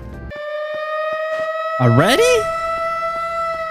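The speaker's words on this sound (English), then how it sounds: "Why is there a siren going on already?" A wailing siren rises and falls in the video game Robot Alchemic Drive, with a steady tone running under a loud swooping burst, while a voice speaks briefly over it.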